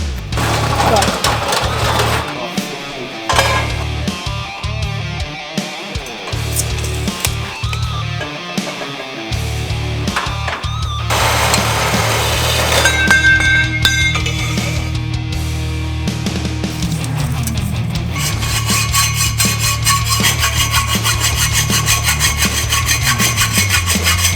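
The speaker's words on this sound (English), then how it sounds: "let's go put this on the bandsaw" Bandsaw cutting metal tubing for a homemade barbell, a loud continuous grinding rasp with the motor humming underneath and a steadier tone toward the end.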